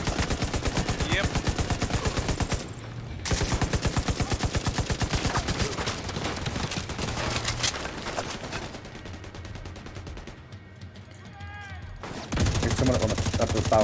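Rapid automatic gunfire rattles in long, loud bursts during a firefight in Tom Clancy's The Division 2, broken by a brief lull with chirping effects before the shooting resumes hard.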